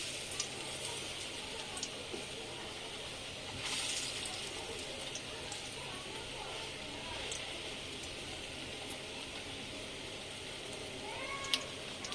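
Food fries in a pan with a little oil after being flipped, giving a faint, steady sizzle with a few scattered clicks and a brief louder burst.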